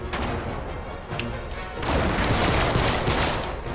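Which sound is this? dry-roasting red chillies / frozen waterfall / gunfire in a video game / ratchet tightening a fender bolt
gunfire in a video game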